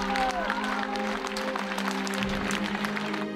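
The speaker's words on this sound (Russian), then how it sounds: "гроб с Караченцевым вынесли из Ленкома под оглушительные аплодисменты и крики «Браво!»" Thunderous applause from a crowd as Nikolai Karachentsov's coffin is carried out of the Lenkom theatre after the memorial service, a steady dense roar of clapping over a low sustained hum, with possible shouts of bravo mixed in.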